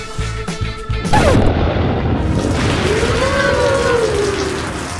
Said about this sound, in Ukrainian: Ой, пішов дощ.